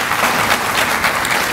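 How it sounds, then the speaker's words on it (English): An audience at a keynote dinner applauds steadily and fairly loudly, a dense, even wash of many hands clapping throughout with no voices over it. "Give him a round of applause again,"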